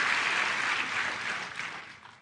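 A church congregation bursts into steady applause for God at a Tagalog sermon, a dense close field of clapping that holds level for about two seconds and then tapers slightly, with no talk over it.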